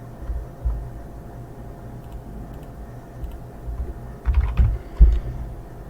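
Typing on a computer keyboard while entering text in a Word document, a steady run of soft clicks under background hum with a louder burst of keystrokes near the end.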